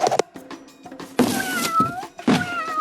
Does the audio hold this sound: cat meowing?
yes